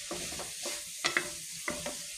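Pork frying in a pan and being stirred, with a low sizzle under a few distinct scraping strokes and clatters of the utensil against the pan, close up and with no voices.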